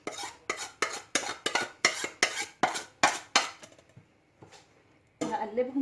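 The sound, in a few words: stirring powdered spices, garlic, onion, paprika, turmeric together in bowl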